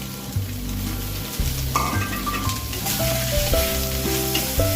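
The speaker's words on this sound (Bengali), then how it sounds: "এবার এটাকে খুব সুন্দরভাবে আমি ভাজা ভাজা করবো" Mashed boiled potatoes with ground coriander, cumin and turmeric sizzle and crackle in a pan, a steady frying hiss running under tonal background music for the whole stretch.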